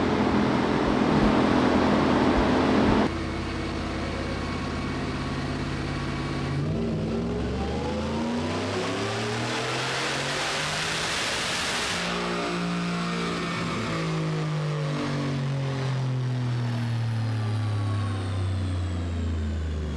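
A supercharged car engine on a dyno, Whipple Gen5 or VMP Apex Predator blower, loud idle then revving hard through a long climbing pull with rising whine, then winding back down, no talk.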